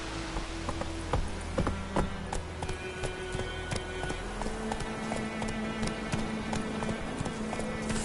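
Horse hooves galloping steadily across ground in The Witcher 3 video game, a rapid repeating clip-clop rhythm mixed with game ambience and a faint rain-like patter.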